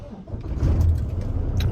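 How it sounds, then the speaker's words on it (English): A 2016 Volvo VNL670 truck with a D13 engine is started on a cold day, its low diesel rumble building from a crank into a steady close idle, with a faint jangle of keys. "Let's get this truck started."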